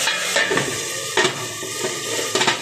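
Food sizzles loudly in a frying pan close by, a steady frying hiss broken by a few stirring scrapes against the pan.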